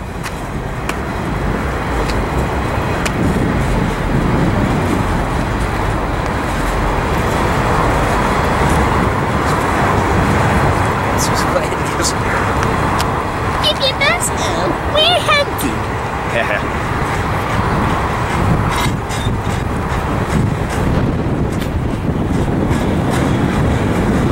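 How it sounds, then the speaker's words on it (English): A heavy double-stack freight train hauled by SD70-series diesel locomotives labors up Cajon Pass, a loud, continuous low rumble and engine roar close by, with people talking over it. "this train's struggling up the pass"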